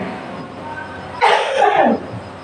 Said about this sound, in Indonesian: Maaf iklan, masih batuk.